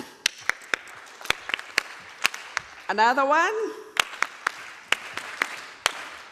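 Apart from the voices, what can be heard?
Farmer Field School rhythmic group clap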